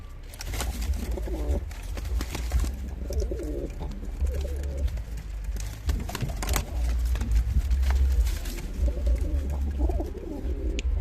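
Pigeons cooing and scuffling as a female fends off a male during pairing, soft repeated coos and flutters over a steady low background rumble throughout.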